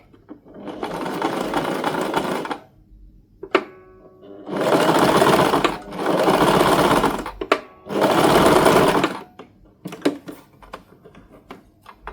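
Sewing machine stitching the two ends of a piece of elastic together in several loud, close bursts of rapid whirring, separated by short pauses and small clicks.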